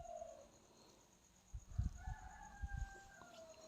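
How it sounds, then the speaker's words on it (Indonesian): Rooster crowing faintly in the distance just after a pre-dawn meal, a couple of drawn-out calls over a quiet background with a few low thumps nearby. "Jadi masih ada suara kokok-kokok ayam"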